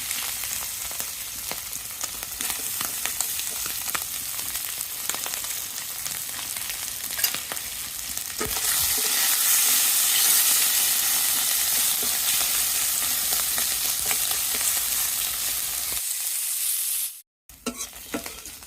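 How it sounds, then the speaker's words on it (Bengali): Tangra fish fry in a pan with chilli, onion and ginger, a dense steady sizzle that grows louder partway through as the fish go in, with light stirring, then cuts off abruptly near the end. "এখন রান্নার জন্য যে ট্যাংরা মাছ ভেজে নেব মাছগুলো দিয়ে দিলাম"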